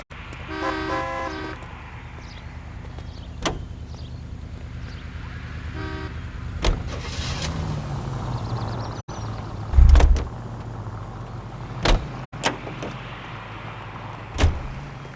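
Car driven in the video game L.A. Noire, a steady low engine drone running throughout, with a few sharp clicks and bumps and one louder thump near the middle.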